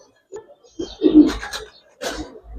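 Pigeons coo close by in short separate bursts, soft rounded calls with brief pauses between them, with no talk over them; the birds are a pair of coloured pigeons.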